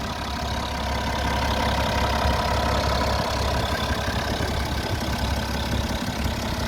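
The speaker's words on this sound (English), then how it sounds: "You can tell me if engine sounds healthy." A BMW F11 535xd diesel engine idles steadily after repair of a catastrophic failure, a continuous close low rumble with an even mechanical clatter throughout and no speech.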